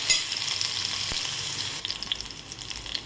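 Cumin seeds and garlic tempering in hot oil sizzle loudly and close, first as a smooth hiss, then breaking into scattered crackles and pops.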